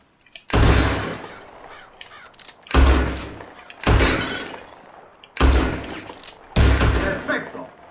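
Five loud gunshots ring out at irregular intervals as a revolver fires at bottles in a shooting contest in Red Dead Redemption 2, each blast sharp and booming with a short ringing tail.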